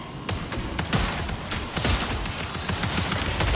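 Gunfire from a slow-reloading gun in a video game, a series of sharp, loud shots in irregular rhythm, close up and unaccompanied by talk, over a steady background bed.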